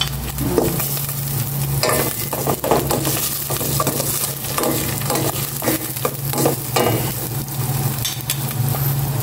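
Onion and long chili peppers sautéing in a pan, giving a steady close sizzle with repeated stirring scrapes throughout and no talk.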